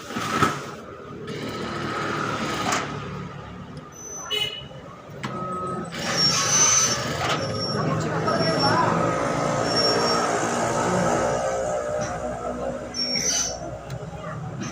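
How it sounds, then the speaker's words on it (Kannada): A Jack F5 industrial sewing machine runs a stitching demo, its motor giving a continuous mechanical whir and hum over a busy room. People can be heard talking in the background, and there is occasional clatter. "ಈಗ ಅದನ್ನು ರನ್ನಿಂಗ್ ಮಾಡೋದನ್ನು ಹೇಳ್ಕೊಡ್ತಾರೆ, ಡೆಮೋಗೆ ತೋರಿಸ್ತಾರೆ ಹೊಲಿಗೆ ಯಾವ ರೀತಿ ಬರುತ್ತೆ ಅಂತ."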